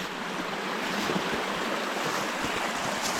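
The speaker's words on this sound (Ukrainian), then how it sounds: "подивимося на цей гірський красивий струмок" A mountain stream near the Sheshory ski resort rushes in a steady, dense broadband wash that stays even and unbroken throughout, close to the microphone, with no voices.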